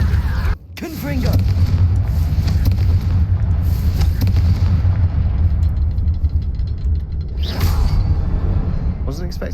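A Confringo spell explosion in a Harry Potter video game bursts with a loud, rumbling blast that sustains for several seconds, followed by a whooshing swell, dense and close.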